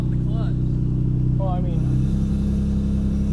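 A Nissan Skyline R34 engine idles steadily with a low, even rumble that runs throughout, fairly loud and close, while a person speaks over it.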